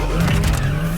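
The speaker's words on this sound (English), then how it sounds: "doing a great job of keeping the car on the spot with the wheels turning" A BMW spins on the spot with its wheels turning, a brief loud burst of engine drone and tire scrub close by.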